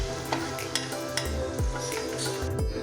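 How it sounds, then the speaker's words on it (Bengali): Chopped onions fry in a pan for pasta noodles, a constant close sizzle with a few metallic scrapes and clinks of a spatula stirring. "এবার পেঁয়াজ কুচিগুলো আমরা ভেজে নিচ্ছি"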